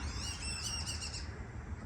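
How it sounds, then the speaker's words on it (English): Birds calling along a nature trail, a few high whistled notes in quick succession early on, fairly faint over steady outdoor background noise, no talking. "Hear the birds singing."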